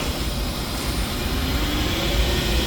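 Dover T4 geared residential elevator machine running, a loud continuous mechanical whir and drone heard up close, steady throughout with no voices.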